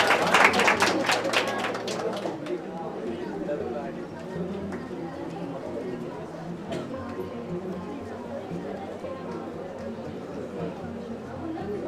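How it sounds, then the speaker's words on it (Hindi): An audience claps at a school cultural programme and talent award ceremony. A brisk burst of hand claps comes at the start, then thins out as voices and chatter take over and continue to the end. "तो भैया तालियां बजाते रहो।"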